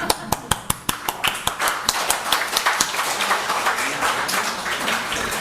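A church congregation at a Sunday afternoon service claps together in a brisk, rhythmic beat, sharp distinct claps at first blurring into a denser, ragged clatter, with voices mixed in.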